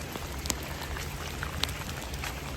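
Steady cold rain drums on an RV roof and walls, a dense continuous patter with a few sharper drips standing out, no voices.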